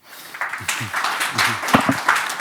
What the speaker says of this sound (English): please give a big applause, round of applause to the panel here